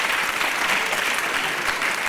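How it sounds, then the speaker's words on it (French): A studio audience on a French television show breaks into strong, sustained applause, a loud, dense roar of clapping with a faint crowd murmur underneath. "Bonne réponse, on applaudit encore très fort, Tania."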